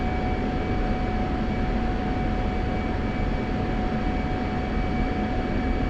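Jet engine in a flight simulator game spooling up to military power, a steady loud roar with a constant whine and no breaks.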